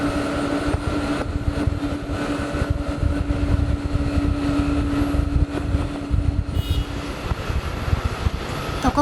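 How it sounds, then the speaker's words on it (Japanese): Deep, continuous jet engine roar of a British Airways Boeing 787-9 on its takeoff run at Haneda Airport, Tokyo, a steady rumble with a faint whine, heard from some distance. "ここで離陸滑走を始めた飛行機、こちらはイギリスロンドンへ向かうブリティッシュエアウェイズのボーイング 787-9 です"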